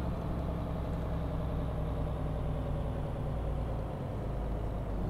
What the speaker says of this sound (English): It sounded like my engine is making some weird noises now since I hit that invisible wall.